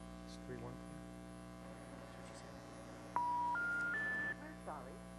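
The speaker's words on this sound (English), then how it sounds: "I'm dialing." Telephone dialing tones from a calling-card call: three rising touch-tone beeps in quick succession, fairly quiet over a mains hum, with brief talk before and after.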